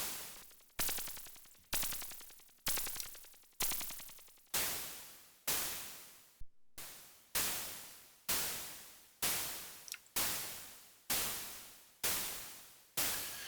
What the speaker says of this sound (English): ElectroHat will give you this pseudo white noise. It's a little more synthetic hi-hatty